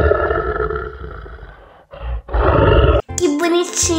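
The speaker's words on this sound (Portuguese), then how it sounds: "Vamos descobrir qual é o som que o leão faz?" A loud lion roar, a deep rumbling growl that breaks off briefly and then resumes with another roaring burst before a brighter sound cuts in at the end.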